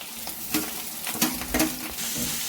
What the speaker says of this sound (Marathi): आपण सगळं मसाला त्याच्यात बटाटे टाकून असं फोडण्यामध्ये छान मिक्स करून घ्यायचे